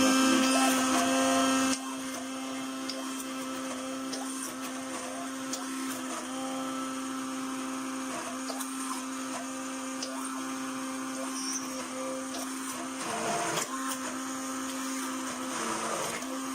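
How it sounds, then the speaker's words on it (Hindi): A hand blender blending apricot and tamarind chutney whirs steadily for the whole stretch, a loud constant motor drone with a slight change in pitch near the start. "अब हम इसको ब्लेंड कर लेते हैं।"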